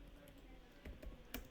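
Keys clicking faintly on a computer keyboard while drawing in AutoCAD, with a few soft taps clustered near the end over a quiet room background.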